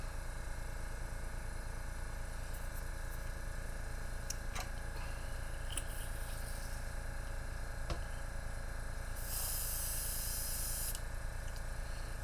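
An airbrush sprays varnish onto a miniature Primaris Redemptor Dreadnought, a steady continuous hiss of air running unbroken from start to finish, close up, with small clicks and a brief brighter burst near the end.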